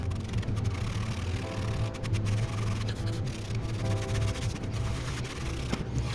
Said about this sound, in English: I'm not rubbing too hard, just enough to pill it up.